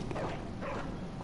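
A dog barks in the Bloodborne video game, one short close bark layered over a loud, dense game soundscape.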